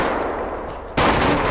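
Dense bursts of automatic gunfire from a firefight in GTA 5 undercover-police gameplay, the rattle jumping suddenly louder halfway through and staying close and continuous.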